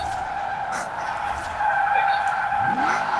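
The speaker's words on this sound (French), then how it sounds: "j'ai entendu un gros dérapage" Car tires skidding in the Forza racing video game, a loud sustained screech with engine tone that swells around the middle and stays heavy to the end, with faint voices underneath.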